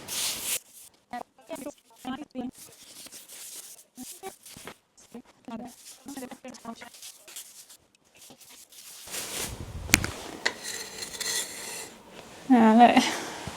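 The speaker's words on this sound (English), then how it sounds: "then wet it again and then scrape off the paste as it comes off" A scraper rasps wallpaper paste off a bedroom wall in short, gritty strokes that grow louder near the end, with a person talking throughout.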